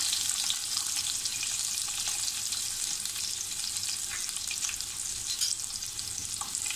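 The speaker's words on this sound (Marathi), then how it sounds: "थोडा आपण याला गुलाबी रंग येईपर्यंत परतून घ्यायचा आहे।" Chopped onion and curry leaves sizzle steadily in a hot pan for egg masala, a continuous bright frying hiss with faint stirring scrapes and no voices.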